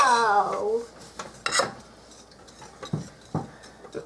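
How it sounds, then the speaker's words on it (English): A spoon clinks and scrapes against a bowl while pumpkin muffin batter is stirred, with a few scattered knocks and scrapes after a brief voice at the start. "And then keep on stirring."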